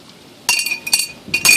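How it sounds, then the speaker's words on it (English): Rocks dropped into a glass vivarium as a first layer, giving sharp bright clinks in three short clusters, close and fairly loud, after a brief quiet start. "you really need to pick up some rocks like that and put them"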